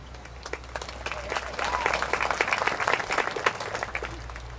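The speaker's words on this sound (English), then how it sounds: "Please hold your applause to the end" A commencement ceremony audience applauding, a dense patter of many hands clapping at moderate distance in a large hall, swelling slightly and continuing throughout.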